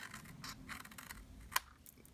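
Scissors snip through paper along score lines while making a treat holder, a few soft crisp cuts in quiet surroundings with one sharper snap near the end.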